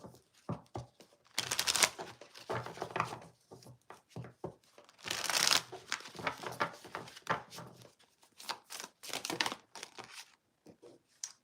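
Cards from a Tarot of the Nile deck are shuffled in close, papery bursts of riffling and crinkling, with short quiet gaps between handfuls and a few lighter taps.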